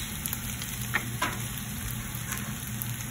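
Garlic, onion and shrimp paste sizzle steadily in a hot pan, a close, continuous frying hiss with a few faint stirring clicks and no talk.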